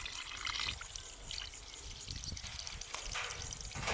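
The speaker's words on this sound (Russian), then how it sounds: "Заливаю водой." Cold water is poured over fatty shamaika fish to soak it before smoking, a soft, close trickling and splashing that runs continuously and quietly throughout.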